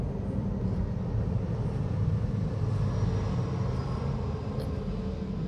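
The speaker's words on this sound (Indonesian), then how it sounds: "oke, pesawat lewat." A steady low roar of an airplane passing overhead, constant and moderately loud, with no voices.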